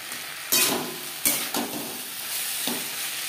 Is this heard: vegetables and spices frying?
yes